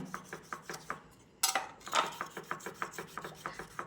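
A stained, rusty kitchen knife blade being scrubbed in steady back-and-forth strokes, a rhythmic series of close rasping rubs with a brief louder scrape partway through, and no talking.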